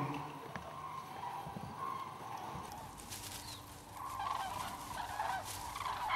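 Cranes calling from the sky, a series of honking, trumpeting calls overhead against a quiet outdoor background, fairly faint and spread out over several seconds.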